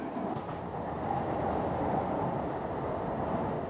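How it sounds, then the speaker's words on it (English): A Tyne and Wear Metro train runs over ground between the suburbs, making a steady low rumble and rolling roar that swells slightly partway through, continuous and moderately loud. "For most of the 34 miles, the metro runs over ground, travelling from the suburbs."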